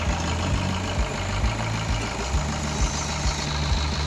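A Maruti Suzuki Ciaz engine idles steadily nearby with an even low rumble and a regular pulsing beat, running alone without talk.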